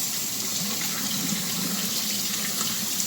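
Tap water runs steadily into a kitchen sink while food gets a final rinse, a constant loud hiss and splash with no pauses or voices.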